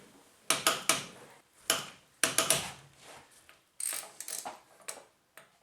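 A torque wrench tightens bolts to 140 foot-pounds with bursts of sharp, close ratcheting clicks in uneven clusters separated by short pauses, with no talking.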